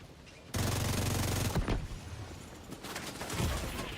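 A turret in The Division 2 fires a sudden, loud, sustained automatic burst that starts abruptly and rattles on for about a second, followed by scattered further shots and echoing impacts.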